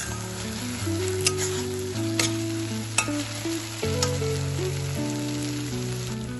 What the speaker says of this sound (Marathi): आपला कांदा टोमॅटो इथे छान परतलं गेलेला आहे।